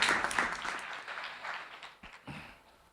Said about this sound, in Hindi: तो एक बार राज शर्मा जी के लिए ताली